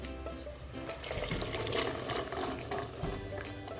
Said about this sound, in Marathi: मी एक कपभर पाणी टाकते